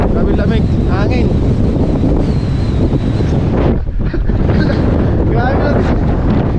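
Strong, cold wind buffets the microphone on Mt Timbac, a loud, constant roar filling the whole clip with only a brief lull near the middle.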